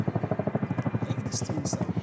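A huge helicopter thuds overhead at first light near a cabin in rebel territory, its rotor beating in a fast, regular pulse that stays loud and close, with a couple of brief higher whooshes late on.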